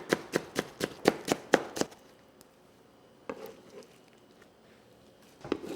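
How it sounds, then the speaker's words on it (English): A knife slices cucumber into matchsticks on a board with about eight quick, evenly spaced, crisp chops up close, followed by quieter handling noise and one more chop near the end. "So I'm going to cut into matchsticks"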